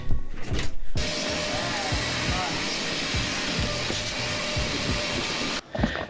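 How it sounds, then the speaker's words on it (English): A vacuum cleaner switches on and runs with a loud, steady whooshing roar close by for several seconds, then cuts off, used on a half cabin boat under restoration. "Let's test the vacuum cleaner, let's go."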